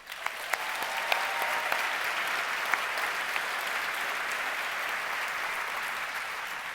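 Sustained applause from an audience at the 2013 Make-A-Wish Michigan WAMmy Awards ceremony, a dense even roar of clapping with a few sharper claps standing out, steady throughout.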